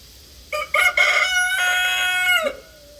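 A single rooster crows close by, a loud drawn-out call lasting about two seconds with a short stuttered start and a falling end.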